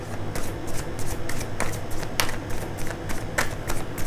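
Oracle cards are shuffled in a rapid, rhythmic series of crisp papery slaps and riffles, close to the listener and continuous.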